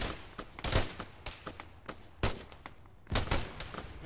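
Bursts of rifle and machine-gun fire from a military shooter game mission in Arma, sharp cracks and short volleys spread unevenly over a few seconds, some close and loud, others fainter, with no voices.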